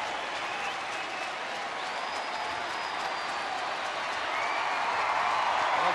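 Crowd of about 36,000 at a Texas Rangers home baseball game against Houston, cheering and applauding steadily as closer Joe Nathan goes for his 29th save, a dense, continuous roar that swells slightly toward the end.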